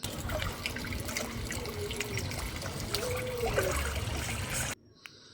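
Water trickles and splashes as a child bathes outdoors, a continuous close pouring and dribbling sound that cuts off abruptly near the end.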